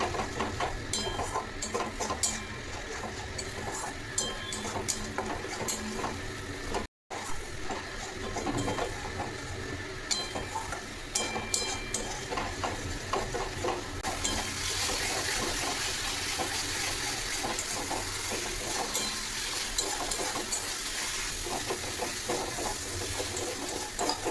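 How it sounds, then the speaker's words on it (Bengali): Masala spices fry in a pan on a gas stove while being stirred, a steady close sizzle with scattered scraping clicks running unbroken for over twenty seconds, with no talk. "এখন গ্যাসের ফ্লেমটা একটু বাড়িয়ে দিয়ে আমি মশলাটা কিন্তু খুব ভালো করে নাড়তে থাকবো"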